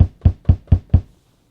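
Five punchy kick drum hits, sample number 50, triggered on a Trackformer XW-PD1 at a steady quick pace, each hit short and deep with a low thump and fast decay, then silence.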